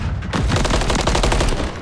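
Rapid bursts of automatic gunfire from a Call of Duty match at a professional esports event, loud and dense, firing continuously with short crackling reports.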